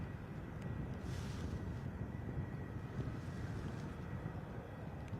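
A departing airliner at Bristol Airport on a crosswind Sunday, heard as a steady broadband roar with wind rumble, sustained and fairly distant throughout.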